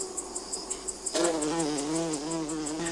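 A female Centris vittata oil-collecting bee at her bamboo-tube nest, buzzing close by with a steady harmonic hum that rises in pitch partway through, over a faint background of rhythmic insect chirping.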